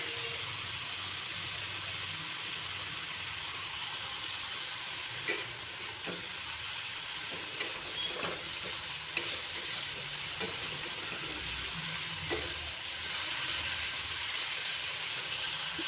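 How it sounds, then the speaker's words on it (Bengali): Sliced radish fries in a pan over a low gas flame with salt and turmeric, a soft, continuous sizzle broken by occasional scraping stirs and light clinks against the pan. "গ্যাসের ফ্লেমটাকে লো করে ভাজতে হবে।"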